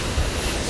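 Gusty wind buffets the microphone on an open golf course, a steady broadband roar with a brief louder gust, close and unbroken, no voices.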